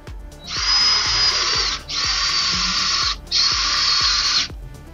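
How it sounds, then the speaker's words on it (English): An auger digs a hole in the ground for a solar panel pole, giving three long, loud, steady whirring runs separated by short pauses, with regular dull thumps underneath and no talk. "I'm gonna go ahead and start with this auger."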